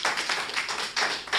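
Applause from the audience at a Hindi comedy poetry recital, a short burst of dense clapping with a few louder swells, close and fairly steady.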